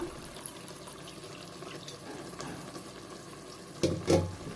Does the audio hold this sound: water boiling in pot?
yes